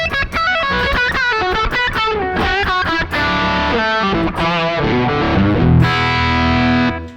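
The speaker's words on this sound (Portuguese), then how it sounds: "Mas ó, drive de válvula aí, ó." An electric guitar through a tube overdrive, recorded direct into an audio interface, plays a loud, distorted lead with quick runs, bends and a final sustained note, with no talking.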